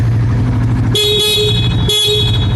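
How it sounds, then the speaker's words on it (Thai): Two short blasts from the horn of a Suzuki motorcycle being tested during a pre-delivery inspection, loud and close, with a steady idling engine underneath. "ครับผมมาฟังเสียงแตรครับ"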